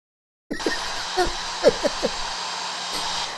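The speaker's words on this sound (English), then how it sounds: "blow drying her hair" A hair dryer switches on and blows with a steady whooshing whir, while a few short voice sounds or squeaks break in briefly over it.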